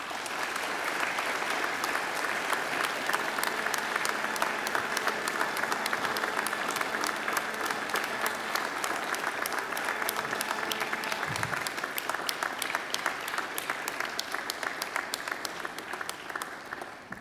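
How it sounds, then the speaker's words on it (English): A large graduation audience applauds loudly and steadily, a dense, sustained roar of many hands clapping that keeps up for the whole stretch with no talk over it. "I invite you to give them a mighty round of applause"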